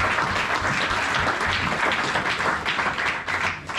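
A church congregation applauds loudly and continuously, a dense wash of many hands clapping throughout with little variation.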